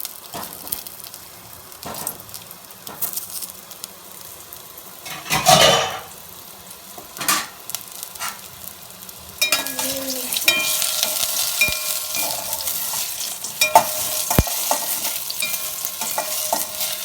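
Cooked kofta dropped into hot oil in a pan: quiet scattered clinks and a loud burst early, then a fuller steady sizzle and crackle for the second half, close and without talking.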